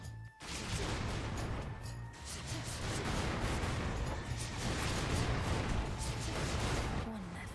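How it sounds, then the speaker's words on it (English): Dense, continuous roar of explosions, crashes and projectile impacts from combat in the action game Hades II, loud and sustained throughout with layered bursts and a brief lull near the start. "we got a lot of explosions and stuff"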